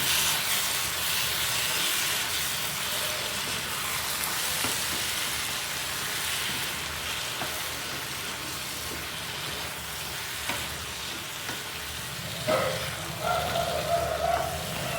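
Spicy curry of raw prawns, eggplant and tomato with chilli powder and turmeric fries in a pan, giving a steady loud sizzle and hiss throughout with faint stirring clatter near the end.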